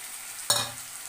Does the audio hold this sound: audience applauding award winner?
no